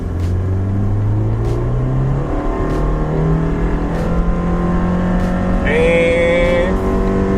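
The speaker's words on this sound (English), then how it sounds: "So I'm going to floor this car, and I'm going to give you a demonstration of what I don't like about a CVT." A car with a CVT transmission drones loudly under full-throttle acceleration, its engine note holding a steady, sustained pitch while the revs stay nearly constant, heard from inside the cabin.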